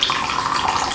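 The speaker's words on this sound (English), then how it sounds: "See, look at that. All that water's coming out." Water streams and trickles out of grated cauliflower squeezed through cheesecloth, a steady close hiss of liquid falling with no talking over it.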